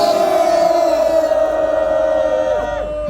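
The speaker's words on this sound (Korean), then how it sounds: "우리 송정화 목사에게 감사한 마음으로 함성 5초 외치겠습니다" A large crowd at a rally against an anti-discrimination bill, led by church pastors, shouts a sustained five-second cheer, loud and continuous before tapering slightly at the end.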